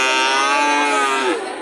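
A cow at a cattle market gives a single loud, close moo that slides downward and fades at the end.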